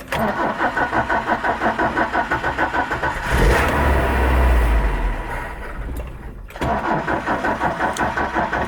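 A foreign car engine with a carburetor, just primed with gas poured down it, cranks with a rapid rhythmic starter whirr, briefly fires and roars for a couple of seconds, then dies and cranks again, loud and close.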